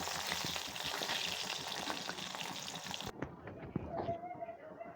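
Bengali pitha cakes fry in a pan with a continuous crackling sizzle that drops away abruptly partway through, leaving quieter clatter and faint tones.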